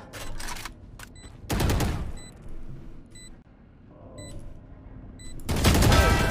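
Gunfire in the video game Valorant: two loud, dense bursts of rapid shots, one near the middle and one at the end, with faint electronic beeps and quieter game noise between them.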